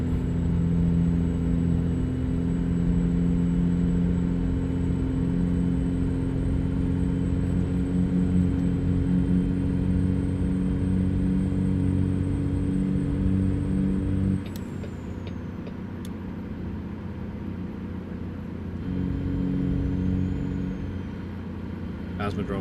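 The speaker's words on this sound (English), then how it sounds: "Truck sounds very nice." Truck engine in American Truck Simulator, a steady loud low rumble and drone that holds for most of the stretch, then drops with a hiss like an air brake before picking back up; a person talks over parts of it.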